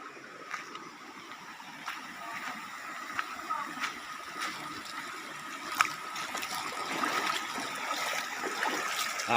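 River water flowing steadily at a scenic river with several waterfalls, a continuous soft rushing wash with faint splashes scattered throughout, at moderate distance.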